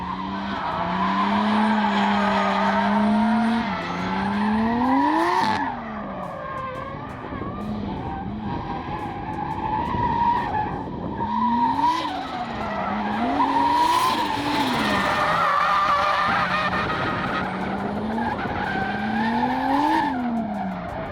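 Drift car sliding with its handbrake pulled while the clutch stays engaged, loud engine revs rising and falling in repeated swells over continuous tire screech and skidding, close and sustained.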